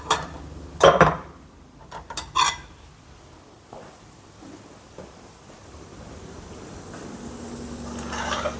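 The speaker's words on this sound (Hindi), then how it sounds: "चलिए हम एक प्लेट लेते हैं" A plate is taken out in a home kitchen for serving, with clattering dishes and cutlery clinks in a few bursts early on, then quieter faint rustling.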